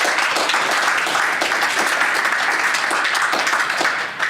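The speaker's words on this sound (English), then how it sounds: "a round of applause to these three fine judges" Audience applause for three judges at a Dragon's Den-style pitch competition, loud, dense, continuous clapping filling the whole stretch and tapering slightly at the very end.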